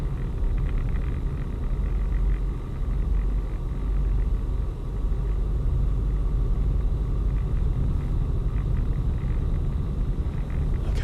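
Steady low engine rumble and road noise inside a car driving on a single-lane national speed road during a Birmingham driving test, continuous and fairly loud with no talk.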